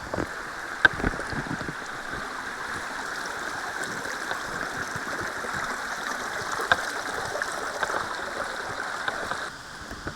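Water pours steadily from a waterfall beside a village in Karbi Anglong, Assam, a dense, unbroken rushing roar close by, with a few faint knocks and no talking.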